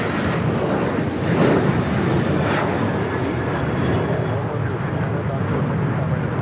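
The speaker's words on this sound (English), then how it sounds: "American Airlines 2308 taking off to Raleigh-Durham on the 737-800" An American Airlines Boeing 737-800 takes off at Los Angeles airport with a loud, broad jet roar. The engine rush swells and holds steady throughout, with a voice talking over it.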